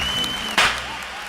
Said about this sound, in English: You don't have to clap again